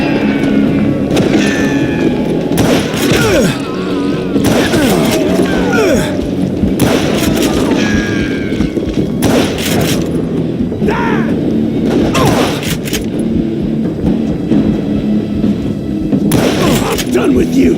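Gunfire in the video game Call of Juarez: Gunslinger, loud repeated booming shots in bursts across the stretch, mixed with game sound effects and voices.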